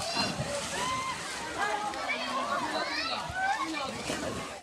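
People splash and swim in an outdoor swimming pool on a hot summer day, a continuous busy wash of sloshing water with many voices and children's shouts mixed throughout.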